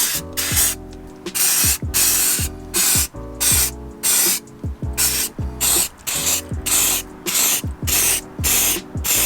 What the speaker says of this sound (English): we're gonna spray it with some Hammerite metal paint